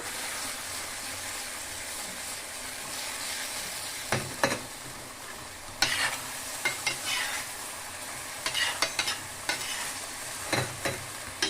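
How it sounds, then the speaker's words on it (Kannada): Chicken sukka frying in a pan with masala, a steady close sizzle with intermittent scraping stirs and clatter from about four seconds on, no talk. "ಫ್ರೈ ಆಗಬೇಕು ಚೆನ್ನಾಗಿ."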